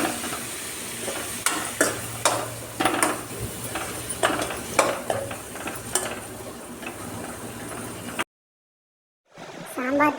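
Drumstick and carrot sambar with sambar powder simmering in a pot, a soft continuous bubbling and sizzle with occasional ticks and stirring taps, then a short silence.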